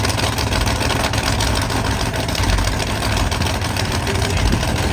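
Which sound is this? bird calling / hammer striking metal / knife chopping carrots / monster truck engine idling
monster truck engine idling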